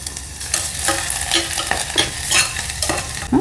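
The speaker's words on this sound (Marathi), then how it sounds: "फोडणी करताना नेहमी लो फ्लेमवरती करा" Ginger paste fries in a tempering over a low flame for butter pulao, a soft continuous sizzle broken by repeated close scraping strokes of a stirring spoon, with no voices.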